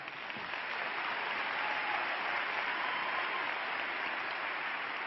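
Church congregation applauding at a worship service announcement, a steady, dense wash of clapping that stays loud and even throughout, with no talking over it.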